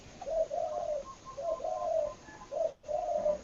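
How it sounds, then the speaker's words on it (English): Doves coo in the background in a steady, repeated series of soft, hollow, low calls that come in rhythmic phrases with brief pauses, while no one speaks. "There's some doves or something."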